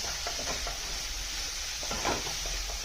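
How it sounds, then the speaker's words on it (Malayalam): Onion masala with coriander powder being stirred in a pan for varutharacha chicken curry, a steady close sizzle with soft scraping strokes of the spoon, no voices. "അതിന് വേണ്ടിയിട്ട് നല്ലോണം നമ്മൾ ഇളക്കി കൊടുത്തുകൊണ്ടിരിക്കണം."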